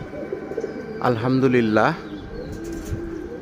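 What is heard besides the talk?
pigeons cooing and flapping as they are flown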